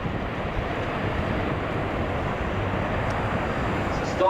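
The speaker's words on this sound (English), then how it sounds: "It's a startling performance from a big aircraft." Airbus A400M military transport aircraft taking off at the Farnborough Airshow 2010, a loud, steady broadband turboprop roar sustained throughout, close and continuous.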